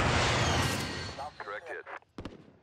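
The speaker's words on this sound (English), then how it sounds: "Precision airstrike." Precision airstrike explosions in Call of Duty: Modern Warfare, a heavy rumbling blast that rolls out loud and slowly fades, followed by clipped radio voices and a few sharp cracks.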